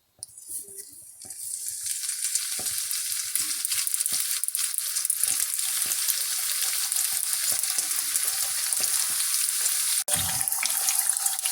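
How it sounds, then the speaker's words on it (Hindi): Chicken spring rolls deep frying in hot oil over a medium flame, a steady loud hiss and crackle that begins abruptly as the rolls go in and carries on unbroken, with no talking. "अब मैं इसमें रोल डाल के फ्राई करूँगी।"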